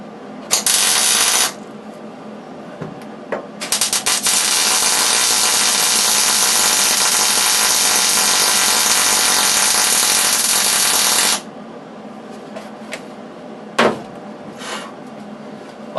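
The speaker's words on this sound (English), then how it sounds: "I start welding on the outside, this piece out here where the metal's bare, get the weld going" MIG welding on the bare outer edge of a car's rear seat metal panel during a restoration, heard as loud, steady crackling buzz in a short burst and then a long continuous run, with brief pops after it.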